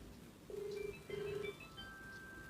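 Samsung Galaxy S25 ringtone on an incoming call with vibration off, two short tonal ring bursts followed by fainter chime notes, quiet and alone.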